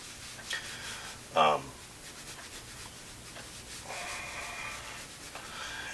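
A smooth graphite pencil drawing on paper, giving soft continuous scratchy rubbing strokes close up, with a brief breathy sound partway through.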